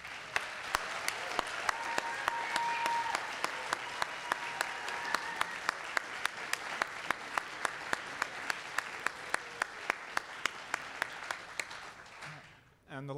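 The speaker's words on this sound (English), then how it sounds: "So let's give another round of applause for all of our graduates this year." A graduation ceremony audience for math undergraduates claps steadily for several seconds, a dense roomful of applause with a few sharp individual claps standing out, before tapering off abruptly near the end.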